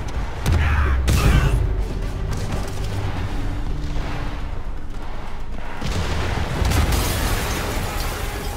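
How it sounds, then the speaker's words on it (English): Explosions in the Spider-Man Remastered video game go off as deep booming blasts, loud at the start and again near the end, over a continuous rumbling, chaotic background. "an explosion just..."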